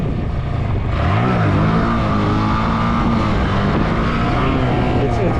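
A motorcycle engine revs loudly and close during wheelie practice, a steady throaty drone that rises in pitch as the throttle opens, under a voice.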